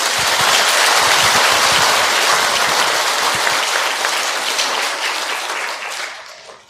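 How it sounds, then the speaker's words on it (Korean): An audience of mothers claps in a dense burst of applause, loud and sustained before trailing off toward the end. "엄마들이 손뼉을 많이 치는 거는"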